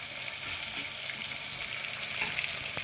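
Pepper chicken frying in hot oil gives a steady, close, broadband sizzle with a faint crackle throughout, no voices over it.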